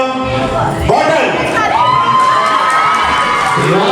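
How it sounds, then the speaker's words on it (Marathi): Audience at a Home Minister community stage show run by Milind Seva Mandal in Chunabhatti, loud close cheering and shouting with children's voices prominent, a brief lively burst of crowd noise. "जोरदार टाळ्या."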